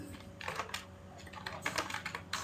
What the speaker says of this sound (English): So we just type select